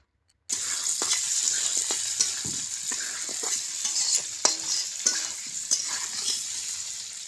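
Mutton fries with already-fried potatoes in hot oil in a village-style pan, a dense close sizzle starting abruptly and running throughout, punctuated by repeated scraping strokes of a stirring utensil.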